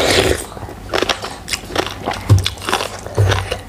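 Crunchy bites and chewing of som tam papaya salad with fresh shrimp come close and fairly loud, with several distinct crisp bites spread across a few seconds.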